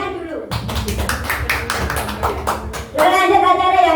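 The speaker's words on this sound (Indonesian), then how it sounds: "tepuk tangan dulu" Rhythmic clapping from a classroom or school group, a quick patter of hand claps mixed with voices, ending in a louder burst of cheering and chatter.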